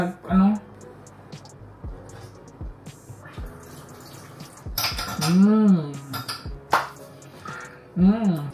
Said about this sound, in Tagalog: Takpan ko lang siya ulit, guys